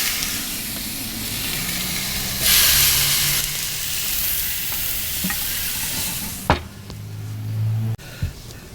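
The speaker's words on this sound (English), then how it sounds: "we're going to put our pork chops right on these grill grates and get some sear going" Molasses and cinnamon brined pork chops hit hot grill grates and sear with a steady, loud sizzle and hiss, swelling briefly midway, with a few sharp clanks near the end.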